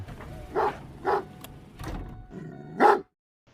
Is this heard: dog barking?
yes